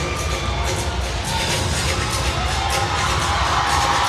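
A volleyball arena crowd at an Iran versus Australia AVC Challenge Cup match cheers and shouts continuously, a loud, dense roar with high whoops rising above it.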